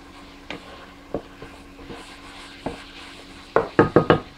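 Diced green peppers stirred into crab meat fried rice in a pan: scattered sharp utensil knocks against the pan, ending in a quick run of four louder clacks, with no talking.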